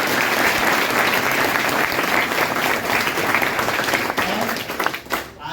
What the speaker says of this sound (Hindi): आरती के लिए एक बार ताली जरूर करें।